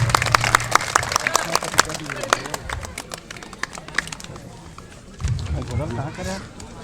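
Rhythmic, scattered clapping from an audience welcoming children honoured at a community felicitation ceremony, close and fairly loud, with a voice speaking over it and fading toward the end.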